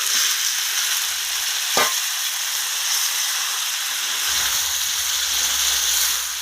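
Chicken kosha cooked village-style sizzles steadily in a pan as it is sautéed and stirred, with a continuous close frying hiss and an occasional scrape of the spoon.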